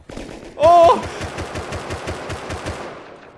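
Rapid automatic gunfire in the game Rust, a steady stream of sharp shots at a fast even rhythm, fairly near, with a brief louder burst early and a voice speaking at times.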